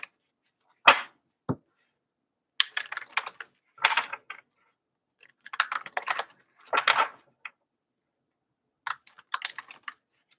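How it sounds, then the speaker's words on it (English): Tarot cards shuffle in short, crisp riffling bursts, several separate bursts with quiet pauses between, close by and without talk. "Being guided to shuffle."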